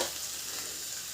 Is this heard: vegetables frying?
yes